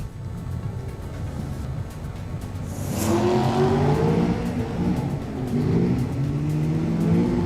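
Drag racing cars, including a BMW, accelerate hard on a rubbered drag strip with wheelspin: a loud engine roar builds midway into rising revs and gear changes, heard close up.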